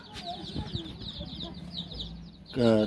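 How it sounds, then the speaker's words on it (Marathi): Country chicken chicks peep continuously in high, rapid chirps, fairly close, before a louder voice cuts in briefly at the end. "गावरान कोंबडीची पिल्ले"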